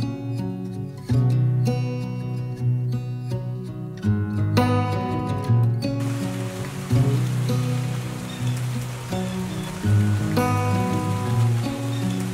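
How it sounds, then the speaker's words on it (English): Steady rain on a fall morning, a dense, even patter that fills the whole stretch without a break, heard alone with no voices and with soft tonal music running beneath it. "Don't you just love a rainy fall morning?"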